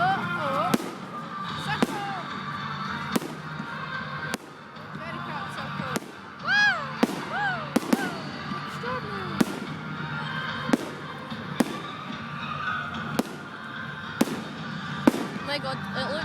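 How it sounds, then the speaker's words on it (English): Fireworks burst repeatedly outdoors, sharp bangs spaced every second or so at moderate distance, with whistling rising tones between them and people talking and exclaiming throughout. "There's one's going off there."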